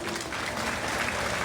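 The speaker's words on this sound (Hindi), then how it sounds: "एक बार जोरदार तालियों के साथ स्वागत कीजिए" Applause from the audience at a public awareness meeting in India, greeting a speaker: dense, steady clapping from a crowd, loud and sustained throughout.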